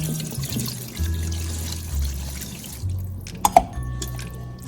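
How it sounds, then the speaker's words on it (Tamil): Quiet trickling and dripping as water drains away from washed mutton liver, with a couple of sharp drips near the end. "நல்லா தண்ணி வடியட்டும்"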